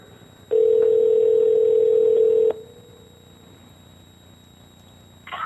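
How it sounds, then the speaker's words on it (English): A single steady electronic telephone tone sounds loudly for about two seconds, then cuts off to quiet line hiss. "the phone is ringing. I hear it ringing."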